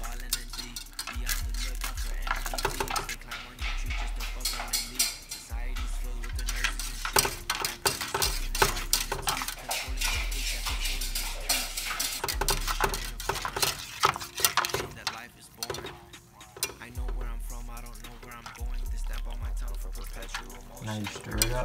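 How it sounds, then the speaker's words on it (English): A spoon stirring healthy hot cocoa: repeated scraping and clinking strokes against the vessel in a steady, close rhythm that keeps going throughout. "And now you just stir it up"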